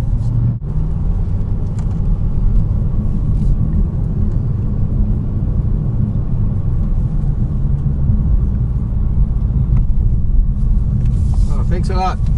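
A 2015 Dodge Challenger SRT Hellcat on a cool-down lap at Portland International Speedway, a steady, loud, low engine rumble with road noise heard from inside the cabin, continuous throughout.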